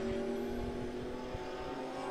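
Race cars at the O'Reilly Auto Parts Grand Prix running side by side, a steady engine drone with a faint high whine, moderately distant and even throughout.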